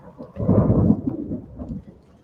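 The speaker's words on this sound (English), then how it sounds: "got a little thunderstorm going on out here at the ranch." Thunder from a thunderstorm at a ranch rolls in as one loud, deep rumble that peaks and then fades away into quiet.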